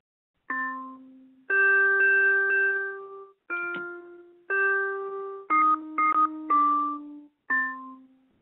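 Several bell-like tones ring out one after another in an uneven sequence, each striking clearly and fading, with short pauses between them.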